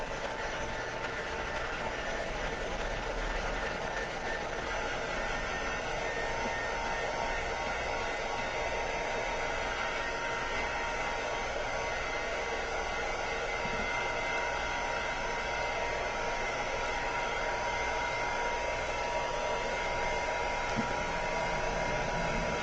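A hair dryer blows steadily on a snowman craft, a loud, continuous whoosh of airflow that runs unbroken from start to finish with no voices over it.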